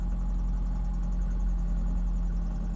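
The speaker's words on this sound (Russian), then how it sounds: "Вот слышим вот такой вот писк, свист." A Lada Kalina idles with a thin, steady squealing whistle from under the hood riding over the low engine hum, continuous and fairly quiet throughout.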